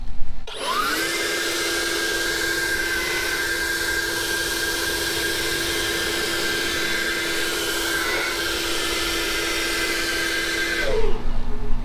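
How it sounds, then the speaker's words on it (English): A handheld blower dries a ceramic-coated Ferrari, spinning up to a steady, loud, high-pitched whine that holds for about ten seconds before winding down. "now I can just take my hand blower and watch"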